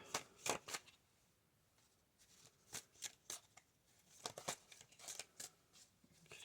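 Tarot cards are shuffled close by in quick riffling bursts with sharp flicks and slaps, stopping and starting in uneven clusters.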